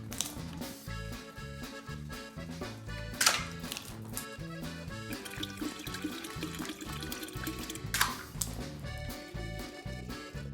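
Water pours steadily into a jar holding pineapple skins, piloncillo and cinnamon sticks for Mexican tepache, a continuous splashing trickle with a couple of louder gushes, close and alone.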